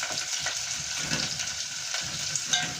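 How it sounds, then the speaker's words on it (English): Onions frying in a pot, cooked soft rather than browned, giving a steady close sizzle with faint stirring scrapes throughout, no talking. "the next thing I'm going to do is to add the onions. To fry them"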